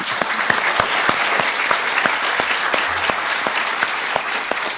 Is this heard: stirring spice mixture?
no